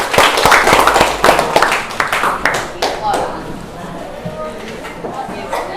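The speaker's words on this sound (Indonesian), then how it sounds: "tepuk tangan untuk kita semua" A class of students claps hands together in a classroom, a burst of sharp, close claps that thins out and fades after a couple of seconds, with voices talking underneath.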